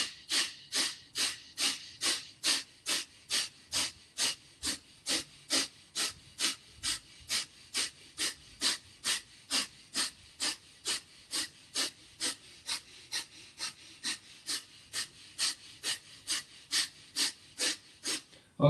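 Forceful, rapid yoga breathing as a long series of about thirty sharp, evenly spaced breath bursts with a quick, steady rhythm, close and clear, with no talking over them.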